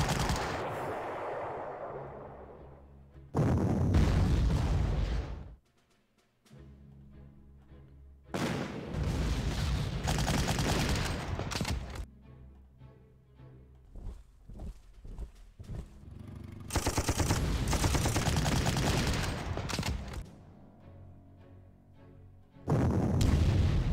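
Heavy artillery and gunfire blasts in the WWII strategy game Panzer Corps, arriving in loud bursts separated by quieter stretches of rumbling battle ambience.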